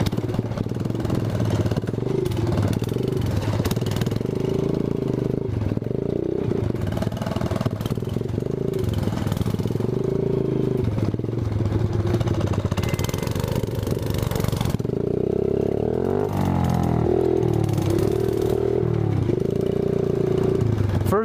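A Yamaha 80cc kids' four-wheeler runs outdoors, its small engine droning steadily and loud throughout, with the pitch rising and falling as it revs and shifts.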